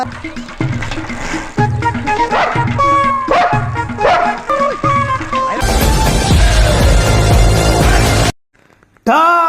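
Dogs bark loudly in a rapid series of sharp yips, several overlapping, followed by a noisy burst and a brief silence.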